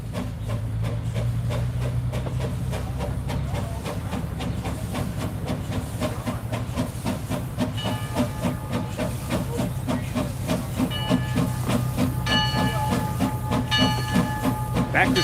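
An 1889 Porter steam locomotive on the Nevada City, California railroad hisses loudly and steadily, with rhythmic chuffing and clanking and brief high whistle-like tones toward the end.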